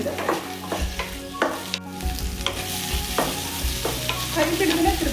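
Sliced okra stir-fries in hot oil, sizzling loudly while a spatula scrapes and turns it in the pan in steady repeated strokes, close and continuous with no talking.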